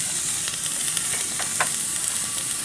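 Chopped onions sizzle steadily in hot oil in a pan before meat goes in, a dense continuous frying hiss with occasional soft stirring clicks, close and alone without speech.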